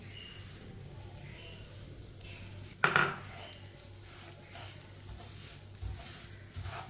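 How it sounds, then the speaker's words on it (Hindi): Poppy seeds roasting in oil in a pan while a spoon keeps stirring them, giving a steady low sizzle with scraping sounds and one sharp clank of metal on the pan partway through. "इसे ऐसे ही चम्मच चलाते हुए भूने, चम्मच छोड़ना नहीं है"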